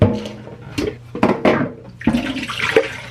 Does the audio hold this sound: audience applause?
no